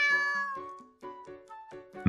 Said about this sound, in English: I hear a low meow from below me.